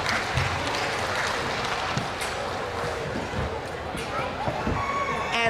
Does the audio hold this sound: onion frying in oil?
no